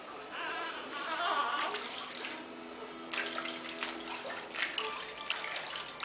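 Water sloshes and splashes softly as a newborn gets a first bath, with intermittent splashing bursts close by while an adult talks throughout.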